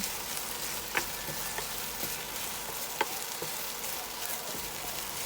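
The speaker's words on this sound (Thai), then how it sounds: "คั่วเขาไปมานะคะ คั่วไปเรื่อยๆให้เขาแห้ง" Chinese sausage stir-fried in a dry pan with no oil gives continuous close sizzling and crackling, broken by sharp spatula taps and scrapes at irregular intervals, with no talk.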